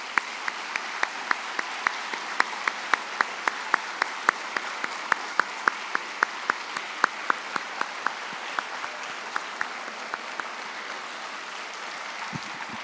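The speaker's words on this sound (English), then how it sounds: "Let's have one final round of applause for our veterans, please." Audience applause for veterans at a high school Veterans Day assembly, fairly distant and soft, with crisp individual claps ringing out over a continuous patter that gradually thins.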